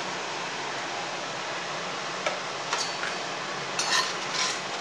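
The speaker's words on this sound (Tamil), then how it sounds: "சுருக்கமாக இருக்கிறதுனால எல்லாம் மொத்தமாக போட்டு ஃப்ரை பண்ணிக்கிறோம்" Fennel seeds, cumin and dried red chillies dry-frying together in a pan for a spice powder, a steady soft hiss with a few faint clinks and scrapes of a stirring spoon, no voices.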